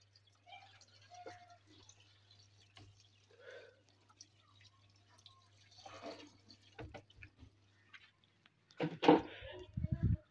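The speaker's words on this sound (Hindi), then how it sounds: "मशीन में पानी बहुत कम है इसलिए हम ऐसे डालते हैं" Water poured into a washing machine that is low on water, heard as sparse, quiet drips and trickles over a low hum, then a louder splashing burst near the end, with some voice mixed in.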